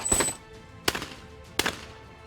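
Shotgun blasts at international skeet targets, three sharp reports spaced under a second apart, each with a short ringing decay, loud and close with no talk.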